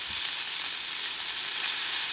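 Burger patties sizzle steadily in a very hot cast iron pan, a loud, continuous hiss of frying fat heard up close with no pauses.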